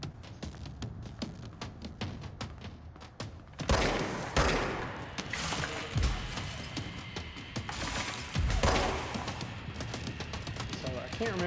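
Gunfire in the video game Control, with rapid bursts of shots and heavy impacts that grow louder and denser partway through, continuing as a dense barrage.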